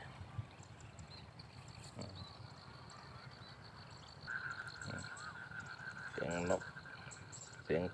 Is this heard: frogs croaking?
yes